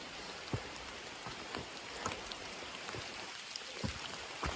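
Soft, steady rain falls on the Appalachian Trail, a quiet hiss broken by scattered heavier drops landing nearby.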